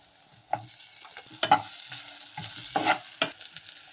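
Onions and tomatoes sauté in hot oil for a cauliflower gravy, with gentle sizzling under several distinct scrapes and knocks of a spoon stirring the pan, close and quiet, no voices.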